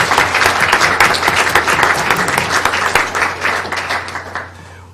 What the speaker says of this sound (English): Let's give this outstanding team one more round of applause.